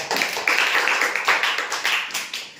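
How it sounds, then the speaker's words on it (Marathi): A group claps for two players at a school memory-game activity, a dense, fairly close burst of clapping that pulses unevenly for a couple of seconds. "याच्यासाठी जोरदार टाळ्या"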